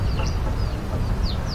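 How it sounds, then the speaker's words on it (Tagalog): Chickens cluck and chirp near a shooting target outdoors, giving several short calls over a continuous low rumble of background noise. "meron po tayong mga manok dito sa ating target"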